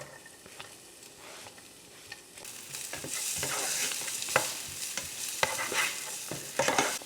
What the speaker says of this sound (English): I'm gonna start by sauteing our diced onion.